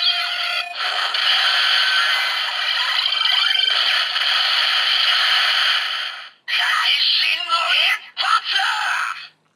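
A Kamen Rider Ex-Aid DX Maximum Mighty X Gashat toy plays a loud, bright electronic sound effect for several seconds, cuts out briefly, then returns with a short randomized burst of extra noise.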